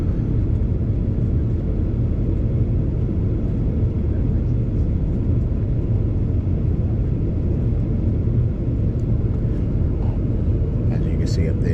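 Broad, steady roar inside the cabin of an older Boeing 737-800 airliner in flight, a constant low rumble filling the space, with a few faint light clicks near the end.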